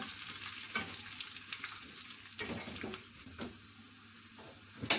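Spices tempering in hot oil for Pongal, a soft steady sizzle with a few faint scrapes, quiet and close, ending on a sharp clink, no voices.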